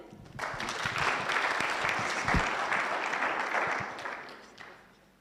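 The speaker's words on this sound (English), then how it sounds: "As they take their seats, let's clap for them." Applause from an audience at a book launch panel discussion for The Rescued Girl and Other Stories, a sustained, moderately distant wash of clapping that swells, holds, then fades away.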